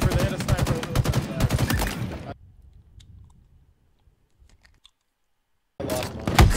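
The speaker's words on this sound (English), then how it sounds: "Oh, sniper. They had a sniper." Rapid clicky gunfire bursts from a sniper and other weapons in a Halo Infinite ranked match, dense and loud at the start, dropping to near silence with faint clicks, then resuming loudly at the end.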